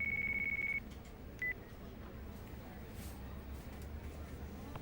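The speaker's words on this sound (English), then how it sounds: "That's your phone." A mobile phone in Yakuza 5 rings with a steady electronic tone lasting almost a second, then a brief second chirp follows over a low, dense game background hum.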